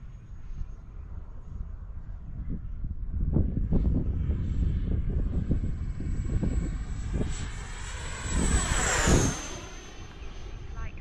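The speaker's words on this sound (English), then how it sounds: "Guys, this jet, by the way, the Viper," An FMS Viper 70mm EDF RC jet whooshes past with a rising whine that peaks near the end and then falls away, mixed with wind noise and a person talking.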